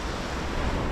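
Ocean surf washes onto a beach as a steady, loud broadband rush with wind buffeting the microphone, no voices present.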